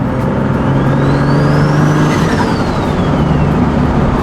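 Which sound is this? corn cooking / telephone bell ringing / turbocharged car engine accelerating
turbocharged car engine accelerating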